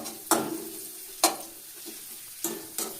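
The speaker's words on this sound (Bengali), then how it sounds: "আমি এর উপরেই কাঁচা লঙ্কা দিয়ে দিচ্ছি। কড়াইতেই কাঁচা লঙ্কা করে দিচ্ছি।" Green chillies frying in a wok, with a few sharp scraping stirs, one near 0.3 s, another near 1.2 s and a pair after 2.4 s, over a steady low sizzle.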